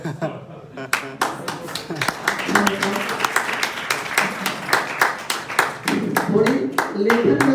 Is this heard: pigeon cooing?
no